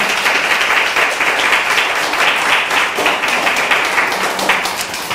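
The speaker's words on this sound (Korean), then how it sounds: "우리 여성교회 엄마 또는 이모와 고모님들을 위해서 박수로 격려하면서 축복합니다" Steady applause from a church congregation at a Korean Full Gospel church service in Singapore, many hands clapping evenly and fairly close throughout, with no talk over it.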